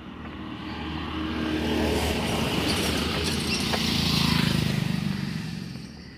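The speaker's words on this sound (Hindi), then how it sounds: "यहाँ से गाड़ी आ रही है।" A vehicle approaches along an empty road beside a construction site near an industrial township, its engine noise building steadily to a loud, close peak toward the end, with broadband road rumble throughout and no talking.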